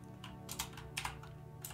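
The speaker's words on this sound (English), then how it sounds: "let's type in complete whoops." Soft clicks of typing on a computer keyboard, a handful of quick keystrokes in small clusters, faint and close over a low background hum.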